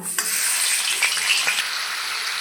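Chicken pieces fry in hot oil in a pan, a steady close sizzle that holds loud and even with a few short pops and stirring clatters.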